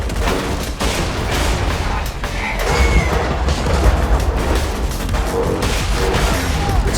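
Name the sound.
cannon firing two shots, video game Borderlands 2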